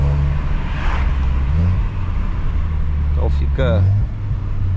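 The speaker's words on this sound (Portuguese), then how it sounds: "Um carro que você escuta o barulho da turbina." Volkswagen Jetta GLI turbocharged engine droning steadily from inside the car, a loud continuous low rumble with a brief rise in pitch near the end, while someone talks over it.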